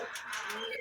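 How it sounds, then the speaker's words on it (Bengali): A pigeon coos in a close, steady murmur that runs on without a break, clearly heard alone with no voices over it. "এই যে কবুতরটা নিয়ে তো আসছি"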